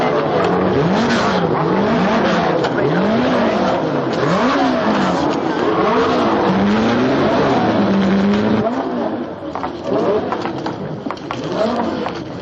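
Racing cars come onto the grid with loud, continuous engine roars, repeatedly rising and falling in pitch as they rev and pass close by, with an occasional tire squeal.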